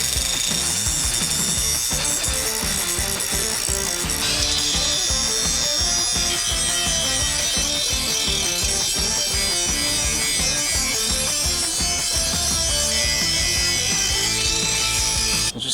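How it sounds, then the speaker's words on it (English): A power tool scrubs paint off the edge of a metal piece before welding while a DIY charcoal grill is being built, giving a loud, continuous grinding and rasping noise close by with a shift in tone partway through. "So I've got to clean all the paint off around the edge to actually get a good weld."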